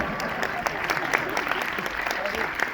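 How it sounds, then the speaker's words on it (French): Sustained applause from a premiere audience for the film team of John Woo's The Killer: dense, steady clapping with no break, fairly close and even in loudness. "Encore un tonnerre d'applaudissements pour l'équipe de The Killer de John Woo"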